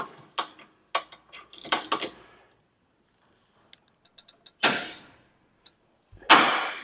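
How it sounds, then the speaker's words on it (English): Milwaukee M12 Fuel 3/8-inch cordless ratchet, model 2557, clicking and whirring in several short bursts separated by pauses, with faint ticks between them, close and fairly loud. "Well, this is that 3/8 ratchet."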